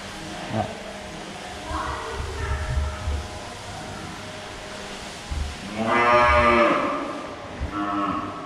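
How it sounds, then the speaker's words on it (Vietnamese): Several Brahman cattle moo in a herd at a farm, loud nearby calls rising and overlapping, with the longest and strongest near the end and a low background rumble between them. "đây là cái dàn bò mà anh nhập về từ miền Nam đây các bác."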